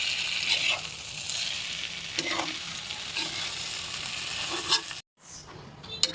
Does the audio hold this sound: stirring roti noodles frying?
yes